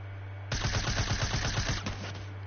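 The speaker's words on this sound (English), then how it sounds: "He's shooting at me" A rapid automatic burst of gunfire from a Fortnite-style arena match, a close, loud stream of evenly spaced shots lasting about a second and a half before stopping abruptly.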